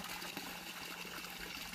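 Steady running water splashes continuously as water is poured over a duck, with no pauses.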